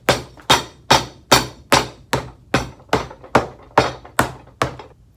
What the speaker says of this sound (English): my French hammer